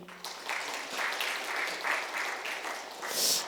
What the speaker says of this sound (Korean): 여러분 박수 한번 쳐줘요